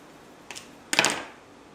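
A cooked stuffed meat roll (falsomagro) has its string cut off, giving a faint brief snip followed by a louder short scraping cut close by, with no talking.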